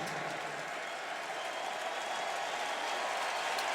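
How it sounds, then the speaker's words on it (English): A football stadium crowd at a Texas versus BYU game lets out a sarcastic cheer, heard as a broad, steady roar of distant voices and scattered clapping that swells slightly toward the end. "And a sarcastic cheer from the crowd on the first down of the second half for Texas."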